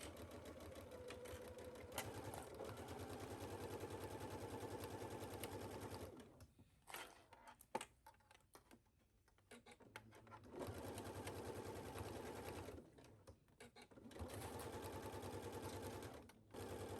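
A sewing machine stitches a blouse seam at 5/8 inch in long fast runs, with a few short pauses and stop-start bursts between them, close and steady.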